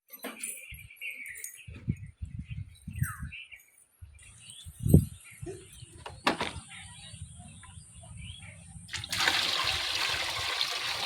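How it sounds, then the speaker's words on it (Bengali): Humic acid is mixed into water, giving intermittent close splashes, sloshes and small knocks, followed by a steady rushing pour of water near the end. "তো এটাকে আমি জলের মধ্যে আগে ভালোভাবে মিশিয়ে নিচ্ছি।"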